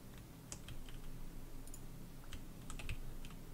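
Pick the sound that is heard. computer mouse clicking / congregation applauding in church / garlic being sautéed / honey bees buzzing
computer mouse clicking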